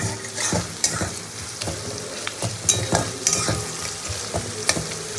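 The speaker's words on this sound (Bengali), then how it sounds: "পেঁয়াজটাকে খুব ভালো করে ভাজতে হবে" Onions sizzle steadily in a hot pan while a utensil stirs and scrapes them in irregular bursts, close and clear, with no voices over it.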